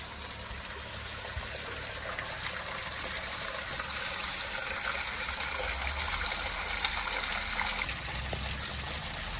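Natural stream water at Gaumukh ghat flows and trickles without a break. The rushing wash stays steady and moderately loud throughout, with no voices.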